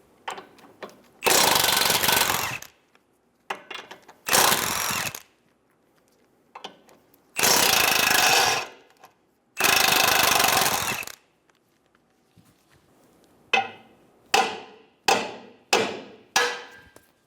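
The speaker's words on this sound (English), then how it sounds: "Using a 17mm socket, remove the 2 nuts and 1 bolt." Impact wrench bursts on the 17mm nuts and bolt of a 2011-2014 Hyundai Sonata lower ball joint: four long loud rattling runs, then a quick series of five shorter sharp bursts, close and alone with no talk.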